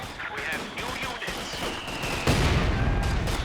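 Machine gun fire in Company of Heroes 2 during a 2v2 battle, rapid bursts of rattling shots mixed with distant explosions and battlefield clatter, with a voice talking over it.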